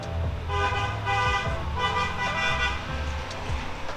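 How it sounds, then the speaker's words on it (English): A passing car sounds its horn in repeated toots over steady road and traffic noise, moderately loud and nearby. "Someone driving by honking at me."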